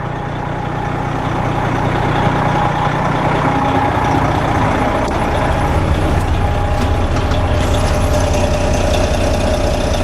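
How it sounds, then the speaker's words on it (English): A 1995 Simon fire truck with an Allison automatic transmission and PTO engaged runs loud and steady, its diesel engine rumbling continuously as it is throttled up and back down, with no talk over it. "I can throttle it up from back here. And throttle it down as it should."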